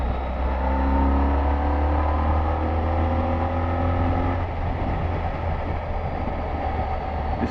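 Honda ST1300 Pan European touring motorcycle at road speed heading toward a motorway, its engine a loud continuous drone mixed with heavy wind rush and a slight shift in pitch partway through.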